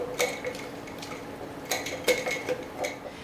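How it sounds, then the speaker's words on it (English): Sourdough starter of equal parts all-purpose flour and water being stirred in a container, heard as a few scattered light clicks and scrapes of a utensil against the sides over a low background. "And then we'll just stir it up."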